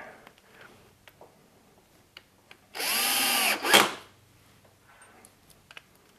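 A power drill drives a square drive screw into a workbench in one loud, close burst of about a second, rising in pitch near the end, set between quiet taps and handling clicks.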